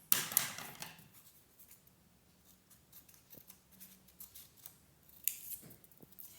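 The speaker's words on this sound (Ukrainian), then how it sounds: "Із зеленої смужки робимо травичку надрізаємо ножицями не до кінця." Scissors snip into a green paper strip to make fringed grass for a children's mushroom-meadow collage, a few short, crisp cuts near the mic with quiet rustling in between.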